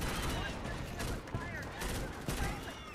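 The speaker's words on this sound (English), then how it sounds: "I was just shooting that person in the back." Gunfire from the Starship Troopers video game, rapid bursts of shots at moderate distance mixed with game noise and faint voices in the background.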